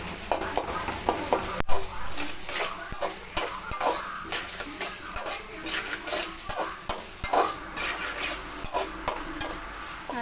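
Sliced onions sautéing in a pan with sprinkled salt for a squid thokku, sizzling steadily while a spoon stirs and scrapes against the pan in frequent, close clicks throughout.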